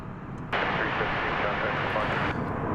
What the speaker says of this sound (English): Here's an Airbus A321 American Airlines.